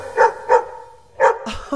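A dog barks in a children's song, four short, bright, clear barks in an uneven rhythm, close and loud, with a brief whimpering yip at the end.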